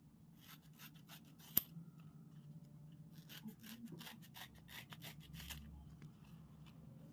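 Stacked banana leaves are cut with a blade in a quiet kitchen, giving soft, faint, repeated rasping snips with one sharp click.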